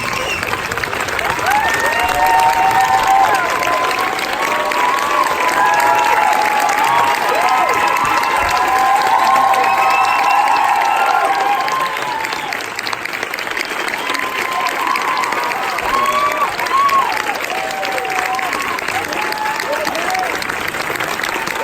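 A theater audience at a Bohemian Rhapsody screening and Q&A applauds and cheers to welcome Rami Malek, sustained loud clapping with whoops that slowly tapers off.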